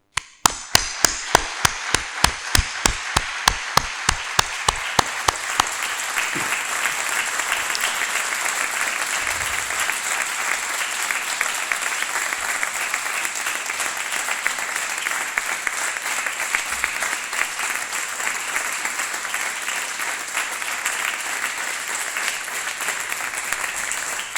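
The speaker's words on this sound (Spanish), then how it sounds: "sí a un sonoro aplauso en honor de las personas represaliadas" A crowd at an outdoor talk in Aibar honours victims of reprisals with loud sustained applause: a few sharp single claps first, then a dense, even roar of clapping that carries on for over twenty seconds.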